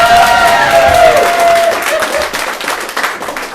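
An audience at an improv showcase gives a round of applause, dense steady clapping with some cheering that stays loud and close throughout before tapering slightly.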